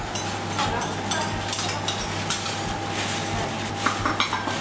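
A spoon stirs evaporated and condensed milk together in a glass, with steady close-up clinking and scraping against the glass that runs the whole time, busy and continuous.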